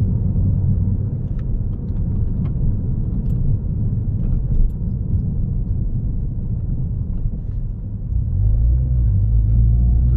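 A Peugeot 208 GTI hot hatchback engine rumbles loud and close with a deep, steady exhaust drone that swells heavier near the end as the revs rise.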